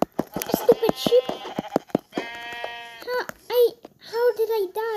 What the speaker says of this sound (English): Hey, stupid sheep.